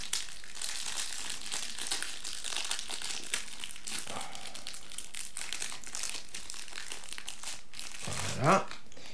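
Booster packs of Pokémon cards are torn open, their foil wrappers crinkling and rustling in a continuous close, soft texture with a brief sharper tear near the end.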